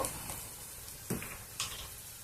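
Onions sizzle and fry in a pan as the base for an eggplant masala curry, a steady close hiss with a couple of brief stirring scrapes.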